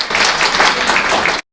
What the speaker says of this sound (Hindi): तालियां तो बजती रहनी चाहिए।